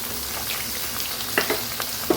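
A spice paste of ginger, green chilli, Kashmiri chilli powder, turmeric, cumin and salt frying in a pan, a steady close sizzle broken by a few sharp spattering pops near the end, no voices.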